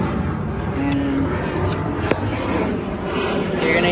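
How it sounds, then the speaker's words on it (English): An airplane passes overhead outdoors while a Mercedes-Benz C300/C250 thermostat housing is being replaced, giving a steady broadband roar that runs throughout at moderate loudness. "Sorry, airplane."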